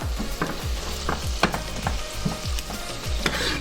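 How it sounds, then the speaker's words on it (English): Pepper and onion fry in a pan with a constant soft sizzle, broken by regular stirring strokes that scrape and swish every half second or so. "The pepper and onion is cooking down nice and soft."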